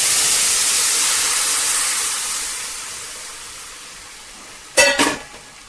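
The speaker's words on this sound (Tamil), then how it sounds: "கொதித்து சுண்டி வரட்டும் எண்ணெய் பிரியட்டும்" Curry seasoned with asafoetida bubbling in hot oil in a home kitchen gives a loud, steady hiss that slowly fades, then a brief clatter near the end.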